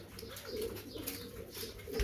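Pigeons coo in soft, low, repeated murmurs close by, a male puffing himself up beside his mate at a breeder's loft, the calls steady across the moment with faint background hiss.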